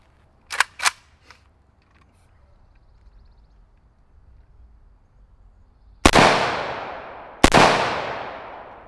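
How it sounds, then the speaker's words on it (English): Two loud AK-74 rifle shots a second or so apart, each a sharp crack with a lingering tail, after a few faint clicks. "Now we got my AK-74 loaded up. Let's see how she does."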